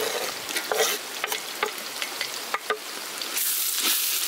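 Beans stirred and frying in a pan for a paneer pulao cooked in a Kerala village, with steady close sizzling broken by repeated scraping stirs and a louder hiss near the end, no talking.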